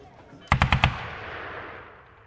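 Gunfire in a sound effect of a peaceful workers' demonstration being shot at in Petersburg, 1905: a rapid volley of four sharp shots trailing into a long echoing rumble, with a narrator's voice around it.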